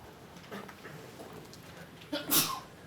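A single sharp sneeze bursts out near the end, louder than the quiet room noise and faint murmuring before it.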